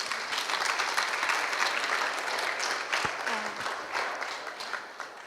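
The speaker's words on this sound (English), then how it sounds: "Let us all give a big round of applause to Didi." A seminar audience in Hyderabad claps in sustained, even applause, a dense, moderately loud patter that fades slightly toward the end, with a brief thump partway through.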